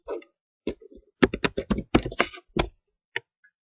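Typing on a computer keyboard, an irregular run of sharp close key clicks in short bursts with brief pauses, loud against an otherwise silent background.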